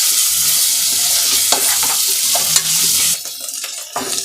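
Ginger garlic paste fries in hot oil with a continuous close sizzle, broken by scraping stirs of a spoon, and eases off near the end. No voices are heard.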